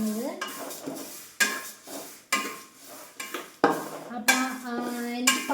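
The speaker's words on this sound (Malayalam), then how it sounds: "ഞാൻ എന്താ സേമിയ വറുത്തുകൊണ്ടിരിക്കുകയാണ്." Semiya (vermicelli) roasting in a pan for payasam: a spoon scrapes and stirs in repeated strokes over a soft sizzle, close and fairly quiet, with no talking.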